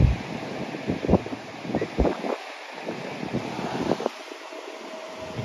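Gusty wind buffeting outdoors, rumbling in low bursts with a steady hiss, loud and close, without talking.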